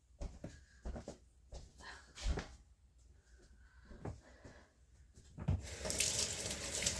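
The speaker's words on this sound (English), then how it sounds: "Let me wash my hands." Hands are washed under a running kitchen sink tap, with scattered clatter and splashes that give way to a loud, steady stream of water near the end, and no talk.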